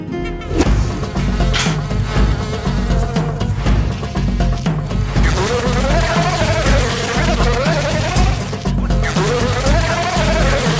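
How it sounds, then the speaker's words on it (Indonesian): A housefly buzzes indoors inside a home during a drama scene, a sustained, close, wavering drone that runs throughout under prominent background music. "Tumben ada lalat di rumah saya."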